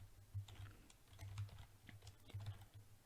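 Typing on a computer keyboard while entering spreadsheet cells, a quiet, close patter of key clicks in uneven bursts with soft thuds underneath, no talking over it.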